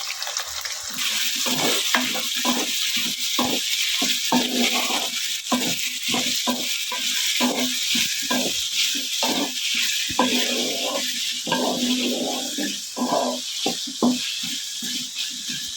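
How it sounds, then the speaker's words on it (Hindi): Onions hit hot oil in a pan while cooking masala okra, producing a loud, continuous close-up sizzle, broken by many quick bursts and spatters throughout. "सी मैंने तेज की है और इसमें हम प्याज डालने लगे हैं।"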